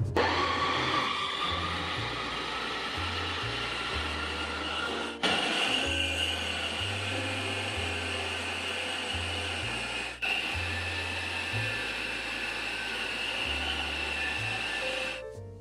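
An electric chopper whirring through green chillies, a medium onion and other ingredients, loud motor bursts pulsing in short on-off runs, with brief pauses near five and ten seconds, close and alone.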